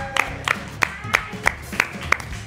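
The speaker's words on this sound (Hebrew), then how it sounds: "קבלו במחיאות כפיים סוערות את יעל גפן ברגר" A studio audience on a television show claps together in a regular rhythm: sharp, even beats roughly three per second, loud and close, with faint background sound between them.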